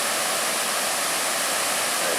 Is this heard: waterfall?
yes